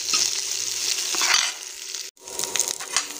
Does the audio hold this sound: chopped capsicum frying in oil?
yes